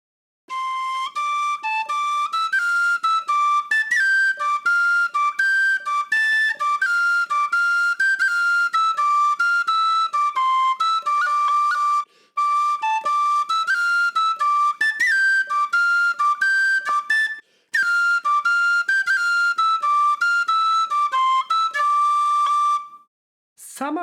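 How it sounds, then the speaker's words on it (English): High C tin whistle playing the intro melody of a song, a clear solo line of bright, steady notes with short breaths between phrases and no accompaniment. "grab your high C whistle and let's start with the intro part"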